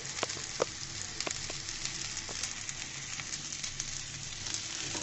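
Onions frying in a pan with a soft, steady hiss dotted with scattered small crackles and pops, fairly quiet and alone.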